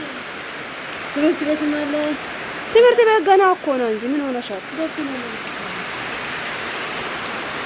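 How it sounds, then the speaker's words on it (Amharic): Steady hiss of heavy rain runs throughout, with voices talking over it in short bursts. "ቀድሬ በጣም እየዘነበ እኮ ነው።"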